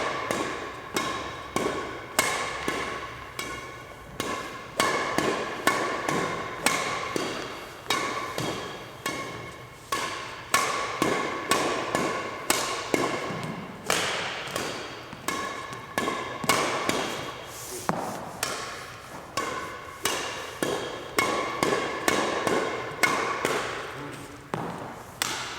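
Badminton drive shots, a racket striking a shuttlecock in a fast, steady rhythm of sharp taps repeated roughly every half second for the whole stretch, recorded close in an echoing indoor hall.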